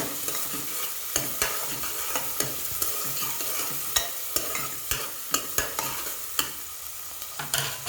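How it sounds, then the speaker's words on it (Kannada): Chopped vegetables fry in oil for upma while being stirred in a pan, with a steady crackling sizzle under repeated sharp scrapes and taps of the utensil. Close and continuous, no talking. "ಸ್ವಲ್ಪ ತರಕಾರಿ ಚೂರು ಫ್ರೈ ಆದಮೇಲೆ ಒಂದು ಎರಡು ನಿಮಿಷ ಚೆನ್ನಾಗಿ ಉರಿಯೋಣ"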